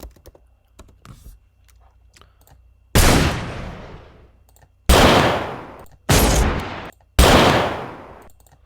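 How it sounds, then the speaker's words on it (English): Four heavy pistol gunshot sound effects, each a loud sharp blast with a decaying tail, spaced irregularly after a few seconds of faint keyboard clicks; no speech over them. "Pistol heavy."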